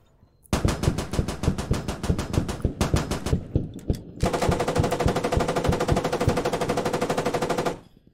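BTR vehicle machine gun firing in Squad, loud rapid bursts: a long rattling stream, a brief pause with scattered single shots, then another sustained burst that cuts off abruptly.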